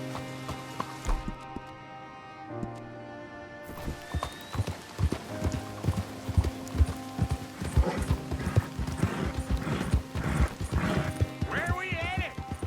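Horse hooves clip-clopping in the video game Red Dead Redemption II, a steady rhythmic run of close hoofbeats with a neigh, game music and voices talking over it.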